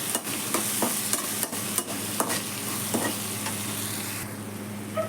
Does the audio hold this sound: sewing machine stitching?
no